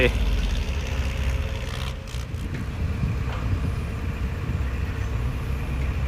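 A Sumitomo SH210F-6 excavator's diesel engine runs steadily with a turbo whine, a continuous loud rumble heard outdoors under a voice.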